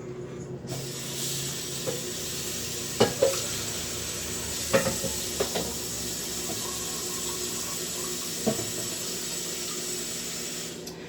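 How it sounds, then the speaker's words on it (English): Water poured into beef gravy for a shepherd's pie in a pan, a steady close hiss and sizzle with a few scattered clinks and knocks of a utensil, no talking. "I needed to at least put some water up in there"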